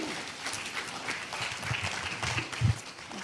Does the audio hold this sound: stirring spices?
no